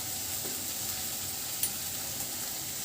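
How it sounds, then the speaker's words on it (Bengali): Masala spices for mutton keema ghugni frying in a pan over medium heat, a steady close sizzle with faint stirring scrapes and one brief clink, no talking. "মিডিয়ামে করে মশলাটা ভাজতে হবে।"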